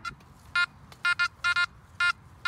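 A Makro Gold Kruzer metal detector in the field gives short, bright electronic beeps, about six quick tones in irregular pairs and singles over quiet background.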